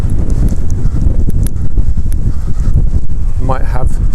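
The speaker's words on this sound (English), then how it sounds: "It is uncomfortably windy." Strong gusty wind buffets the microphone in low rumbling bursts during an outdoor dog walk, with a brief voice near the end.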